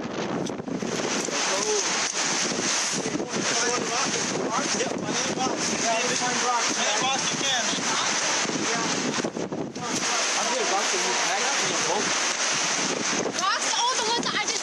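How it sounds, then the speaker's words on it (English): Strong storm wind blows steadily outdoors at a survival camp, roughly 30 mph, a loud continuous roar with gusty buffeting across the microphone, briefly easing near the middle before surging again. "Oh, it is a strong wind out there."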